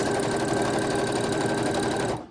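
Sewing machine stitching dress fabric for a shell dress, a steady continuous whirring hum running close and loud without a break, then trailing off abruptly at the very end.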